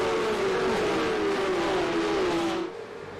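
Porsche Cup race cars roar off the line at the race start at the Red Bull Ring in Austria, a loud sustained engine drone with a rising then falling pitch that drops away sharply near the end.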